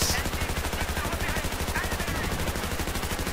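Rapid automatic gunfire in Battlefield 3 hammers on continuously for the whole stretch, an even, fast rhythm of close, loud shots with no pauses.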